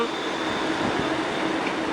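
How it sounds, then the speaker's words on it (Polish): Steady low rumble of a line 8 tram rolling in at a stop in Bydgoszcz, Poland, with a continuous broadband roar and faint mechanical hum, no talking. "Już podjeżdża nasz tramwaj linia numer 8"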